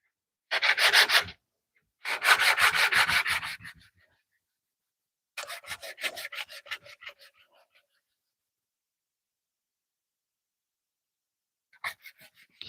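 Wood being sanded in bursts of harsh rasping strokes, several separated passes with silence between them, fairly close.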